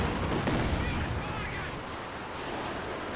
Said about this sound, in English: In comes the Katyusha. A pretty decent barrage there.